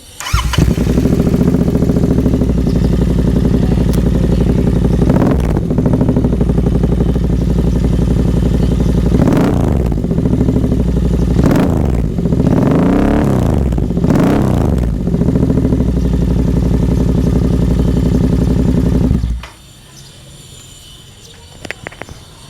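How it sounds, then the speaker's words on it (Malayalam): Heavily modified Royal Enfield Continental GT motorcycle with aftermarket exhaust, starting up and idling with a deep steady thump, punctuated by several sharp throttle blips and revs, loud and close, before the engine cuts off and near silence follows. "അപ്പോൾ ഞാനിത് സ്റ്റാർട്ട് ചെയ്തിട്ട് എൻ്റെ ഒരു എക്സോസിനോടുകൂടി കേൾപ്പിച്ചു തരാം കേട്ടോ"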